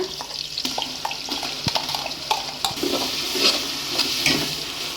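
Ground masala is stirred into fried onions in a pan for mushroom biryani, with a spoon scraping in repeated uneven strokes over a continuous close sizzle.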